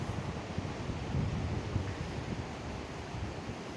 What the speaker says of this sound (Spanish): mirar cómo ruge el río Cares